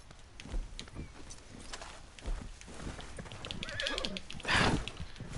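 A horse in Red Dead Redemption 2 clip-clops along with uneven, fairly close hoofbeats, and a louder neigh rises near the end above the game's background noise.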